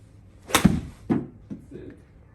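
A pitching wedge strikes a golf ball in an indoor simulator, giving one sharp, fairly loud impact followed by a few softer knocks and thuds.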